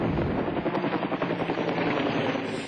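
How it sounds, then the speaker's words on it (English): A firefighting helicopter's rotor thumps in a rapid, steady beat, loud and continuous as it flies close by through bushfire smoke in Victoria, Australia. "Helicopters and the sky crane buzz through the smoke haze"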